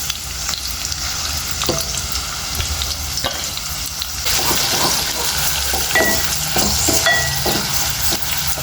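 Sliced onions fry in hot oil with cardamom, cloves and cinnamon, giving a constant close sizzle and crackle, with occasional utensil clinks and stirring, louder in the second half.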